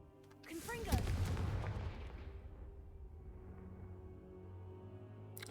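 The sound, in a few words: Confringo blasting spell in video game Hogwarts Legacy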